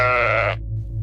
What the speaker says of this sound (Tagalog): Nasa harapan na niya yung kambing